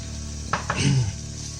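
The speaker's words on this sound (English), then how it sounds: "We're going to drop the 300 grams of chopped tomatoes." Chopped tomatoes, about 300 grams, tipped into a pressure cooker pot over ginger and garlic, giving a brief clatter and a soft wet thump over a low kitchen hum, with no talking.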